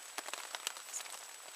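Light rain patters on a parked Blackbird vehicle with its doors open, faint scattered drops ticking irregularly against a soft steady hiss, no talking.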